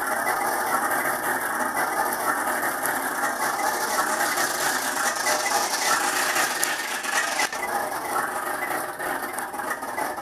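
A sweepstakes prize wheel spins with a continuous rapid ratchet clicking that runs steadily and loudly throughout, slowing only slightly near the end.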